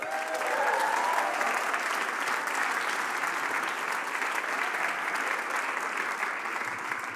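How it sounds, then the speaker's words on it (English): A big round of applause from the audience at a live music session, a sustained crowd clapping that stays steady and full for several seconds, heard from within the room without any speech. "Give another big round of applause for Ella."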